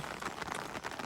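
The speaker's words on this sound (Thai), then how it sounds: "ฝนลงแล้วครับทุกคน" Rain falling outdoors at a reservoir, a steady hiss of drops that stays fairly soft and even through the short stretch, with no talk heard.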